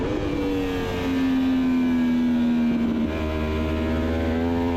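Motorcycle on the Road Atlanta race track, its engine pitch holding high and then dropping in steps as the rider grabs two downshifts, a loud, continuous onboard drone heard alone.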